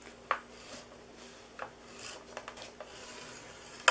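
Paper being scored on a scoring board for a gift box: soft, faint rubbing strokes with a few light clicks and taps, quiet and close, with no voices.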